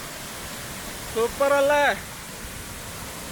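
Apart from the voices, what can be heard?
Vaithalkundu waterfall, rushing water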